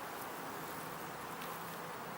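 A crowd of bees fills a hive, producing a faint, continuous buzzing hum that holds steady throughout without any voices over it.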